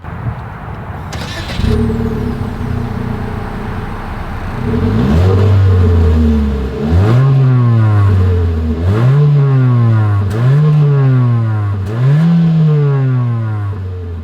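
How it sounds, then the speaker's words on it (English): A 2025 Mitsubishi Eclipse Cross SUV engine starts, idles briefly, then its exhaust revs up loudly several times in a steady rhythm, each rev climbing and dropping back. "As always, here is that exhaust clip."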